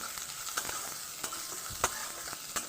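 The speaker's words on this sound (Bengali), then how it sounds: "নাড়াচাড়া করে ভালো করে ভেজে নেব" Garlic and ginger paste sizzles softly in a pan while a spatula stirs it, with scattered scraping clinks over a quiet, even fry.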